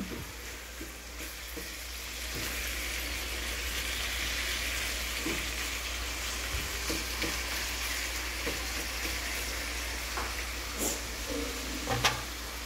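Pork for adobo frying in a pan, a steady close sizzle with soft crackle running throughout, with faint scrapes and clinks of a utensil near the end.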